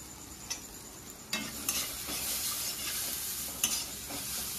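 Spice paste for paneer kosa stirred and sautéed in a pan, a soft steady sizzle with scattered scraping strokes of a spoon, close and moderately quiet, no talking.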